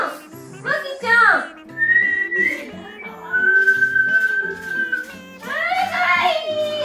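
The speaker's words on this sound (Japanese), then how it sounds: "口笛に反応しましたね" A person whistles a few short melodic notes, then holds a long steady tone to a dog at a grooming salon, over a soft background of quiet voices and a child's chatter.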